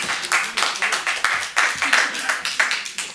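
An audience at a Burbank city council meeting claps in steady, close-up bursts, rhythmic and fairly loud, with no speech over it.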